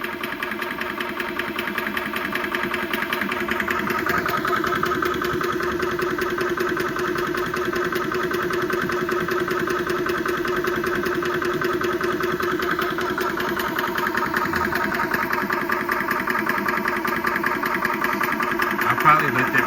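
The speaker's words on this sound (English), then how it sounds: "Well, the compressors didn't give out. They're still going," A Yong Heng 4500 psi high-pressure air compressor runs steadily and loudly the whole time, a dense, chugging mechanical drone with a faint rhythmic knock and no pause.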